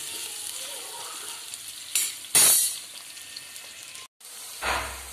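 Onion and other ingredients for kanda poha fry in hot oil in a pan while being stirred, a steady close sizzle broken by louder scraping stir strokes and a brief pause.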